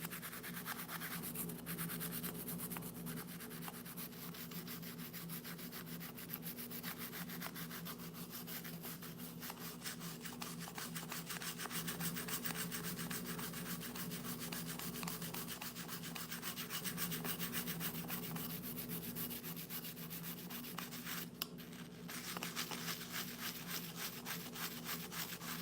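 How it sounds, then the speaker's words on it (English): Steady scraping and scrubbing on an Amazon Echo Dot circuit board to clear milk corrosion, a continuous close rasping rub with a constant texture that runs for the whole stretch without talk. "I'm just giving a good scraping, scrubbied up cleaning."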